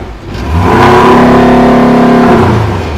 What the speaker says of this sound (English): Let's hear the sound of Porsche Cayman from company exhaust.